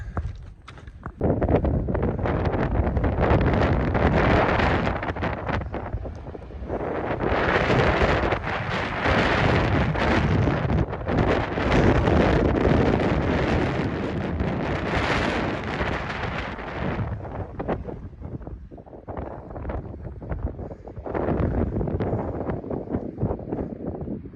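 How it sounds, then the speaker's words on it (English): Strong wind buffets the microphone in loud, roaring gusts that rise and fall throughout, with brief lulls between heavy blasts. "All we know is it was windy. Very windy."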